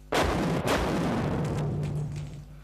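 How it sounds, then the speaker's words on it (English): Stun grenade used by a South African special task force detonating, two sharp loud bangs in quick succession followed by a rumbling reverberant tail that fades over about two seconds. "this is the stun grenade that we use"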